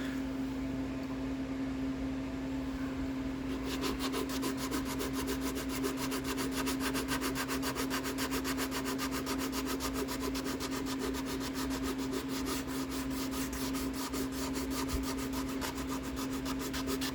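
Wet sanding of a Mandalorian helmet: a steady, fast, rhythmic scrubbing rasp of abrasive on the shell that continues throughout over a constant background hum.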